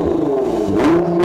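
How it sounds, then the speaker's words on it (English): Nissan GT-R engine revving, a loud, close rumble whose pitch climbs as the throttle is blipped, with no talking over it. "Now go ahead and give it a few revs as I turn it on."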